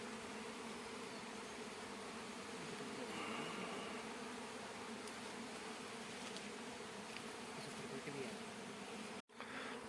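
A swarm of honey bees settles on a stone. Their buzzing is a dense, continuous drone from many insects close by, steady throughout, with a brief bump near the end.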